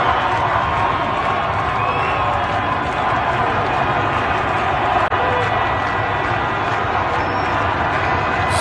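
Street protest crowd in Iran, captured from a rooftop looking down on the city: a sustained, broad rumble of massed voices and movement, steady throughout with faint distant shouts rising now and then.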